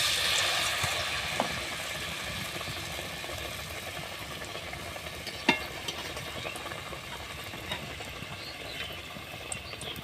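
Potato chops sizzle in hot oil, a steady moderate frying hiss with faint crackles and an occasional sharp pop.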